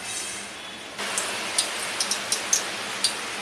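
Tempering oil heats in a pan for a Maharashtrian bhendi kalvan, starting with a soft hiss and then rising to a steady sizzle broken by small sharp pops.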